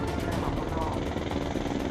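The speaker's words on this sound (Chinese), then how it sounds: "反潜直升机执行起落线操演，海上降落与起飞" An anti-submarine helicopter lands and lifts off from a ship's flight deck at sea, its rotor and turbine roar loud and steady throughout, with a rhythmic chopping pulse running underneath.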